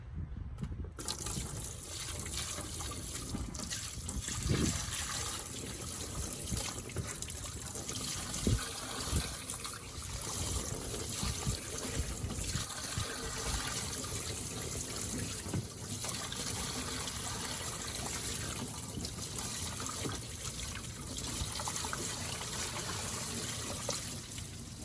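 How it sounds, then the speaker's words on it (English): Water pours from a bucket during a car battery corrosion and under-tray rust cleanup, a steady close splashing and trickling wash that runs without pause and with no talk. "Bucket of water."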